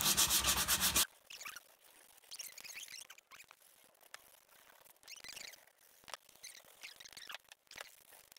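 Hand sanding an old 1995 harness horsemen's association award to smooth its edges and strip mildew, soft scratchy rubbing strokes in irregular bursts after a brief loud opening sound.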